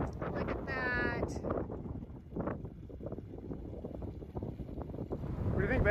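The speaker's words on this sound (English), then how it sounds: "It's a little windy" Strong wind gusting at a hot spring along a road trip, a rough low rumble of buffeting across the microphone, steady and close throughout, with brief bits of talk early on.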